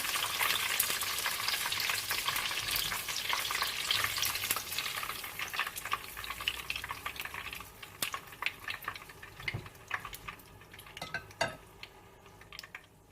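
Chicken spring rolls crackle and sizzle steadily in hot oil, with occasional clinks of a utensil against the pan, close and continuous before the bubbling eases and thins toward the end.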